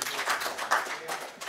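Scattered applause breaks out at a Washington County board meeting in Wisconsin, brief and fairly soft, with a voice speaking over it.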